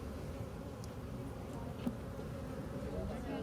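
A dense, continuous buzzing of many bees around their hive, steady and moderately loud, heard up close at an apiculture site.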